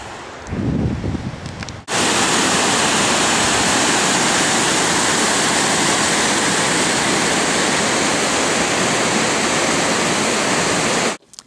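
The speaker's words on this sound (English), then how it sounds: "But now it's a lot warmer this year, so it's just a big waterfall" A powerful waterfall at a Wyoming campground roars steadily and loudly up close, a dense unbroken rush of water, with a quieter moment at the very start.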